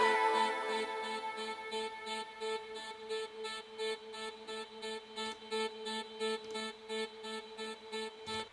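A drum and bass intro vocal, a sustained harmonic tone automated with Fruity Pan-o-matic so it sweeps from the left ear to the right, pulsing in steady rhythmic chops throughout, alone at moderate level.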